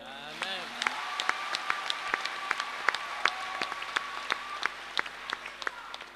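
A church congregation applauding Jesus with steady, rhythmic clapping in a roomy space, while voices carry on over the beat.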